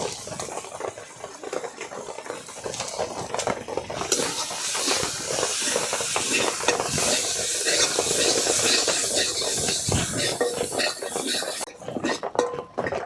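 A turmeric and chilli powder spice paste fries in a pan for a fish curry. It makes a steady hiss with scraping stirs and utensil clinks throughout, and no one speaks.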